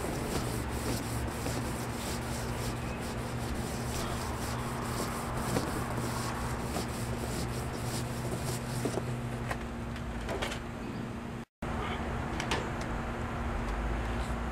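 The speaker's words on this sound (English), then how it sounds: "All right, I'm done scrubbing." Gloved hands scrub an untouched, unmarked Mark II clean with brake fluid. The rubbing is dense and continuous, close and steady for about fourteen seconds, with only a brief break near the end and no talking.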